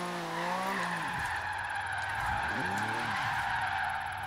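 A Porsche 959 skids and drifts in a racing video game: steady engine drone with two swooping tire squeals, rising and falling pitch, loud and close, no talk.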